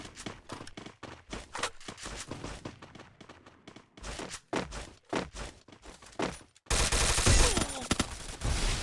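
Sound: gunfire, from a video game

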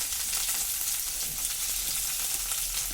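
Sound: mashed boiled potatoes frying in hot oil

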